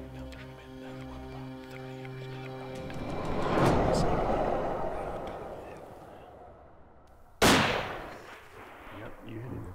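A single loud rifle shot cracks out during a hunt, sharp and close with a rumbling decay, after several seconds of background music and quiet voices.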